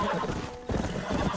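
Horse neighing in the Red Dead Redemption video game, a loud whinny with clip-clop hoofbeats close by, heard alone without talk.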